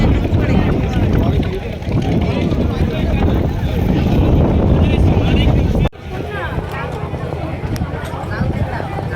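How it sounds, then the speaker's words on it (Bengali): Strong sea wind buffets the microphone on Talsari beach, a loud, continuous low roar that runs throughout, with a brief dropout near the middle, while a person talks over it. "প্রচণ্ড হাওয়া।"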